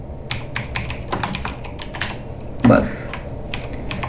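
Fingers typing on a computer keyboard while working in Adobe Illustrator, producing quick, uneven clicks with one louder clunk near the end, and a brief spoken word.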